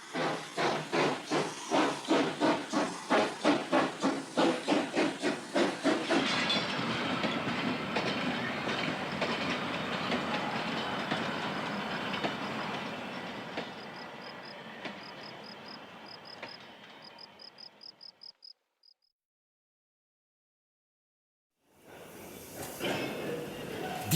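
A French steam locomotive runs along the rails, starting with rhythmic chuffing and clickety-clack that blend into a loud, steady rush of hiss and rolling wheels. It then cuts briefly to silence before the noise returns.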